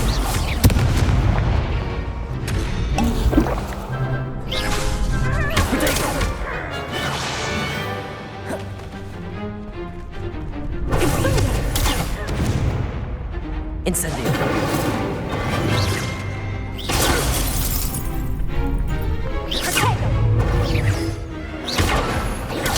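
The Incendio fire spell from Hogwarts Legacy fires in a dense barrage of booming, crashing blasts, with a voice shouting spell names over the relentless loud combat noise.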